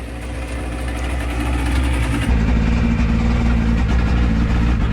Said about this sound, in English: I'm gonna let the engine get all that water out before I take off.